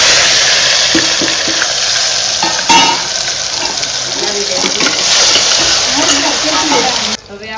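Tomatoes frying in oil with garlic and turmeric at a Surat street food stall: loud, steady sizzling and stirring close by throughout, with a person speaking over it.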